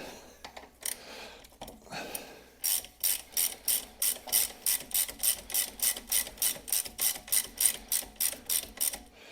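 A hand ratchet with a socket extension works on the rear suspension of a Jaguar XKR, ticking out a fast, steady run of about twenty close, crisp clicks after a few scattered metallic knocks, with no talking.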